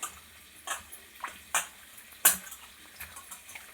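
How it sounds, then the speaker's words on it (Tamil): Bitter gourd is washed in water by hand, with intermittent sloshes and splashes in irregular bursts, fairly close and quiet with no talking. "நான் வந்து நல்லாவே இந்த கறியெல்லாம் போகிற அளவுக்கு வாஷ் பண்ணிடுறேன் பாருங்கள்"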